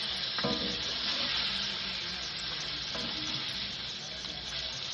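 Sausage browning in a pan gives a steady, close frying sizzle that runs the whole time, with a few faint clinks and scrapes of handling and no talking.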